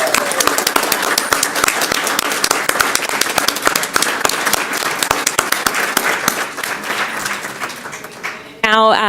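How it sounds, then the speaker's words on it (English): Audience applause at a school governing board meeting honours students' families, brisk, sustained clapping from a room of people, ending with a brief voice at the close. "Can you lead that round of applause for us tonight for your family?"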